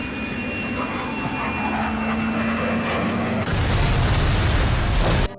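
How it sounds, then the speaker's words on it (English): A fixed-wing airplane approaches from a distance: a steady, broad engine roar that suddenly swells much louder and closer near the end, then cuts off. "a plane in the distance is flying straight toward him"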